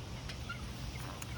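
Adolescent chicks and an adult hen squawk and chirp in a backyard enclosure, giving a few short, faint calls over a steady low background hum.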